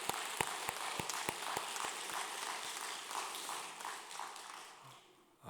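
Faint applause from a church congregation after a choir performance, steady clapping with a few sharper individual claps near the start, gradually thinning out.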